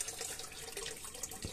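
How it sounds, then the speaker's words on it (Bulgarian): Spring water flowing out of a small rock at a Thracian sanctuary near Burgas, a steady close trickle and splash that continues throughout. "Е, водата как е извира от скаличката"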